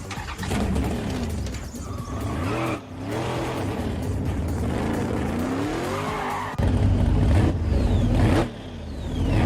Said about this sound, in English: All these motor sounds were taken from the Fast and the Furious movies, like the startup.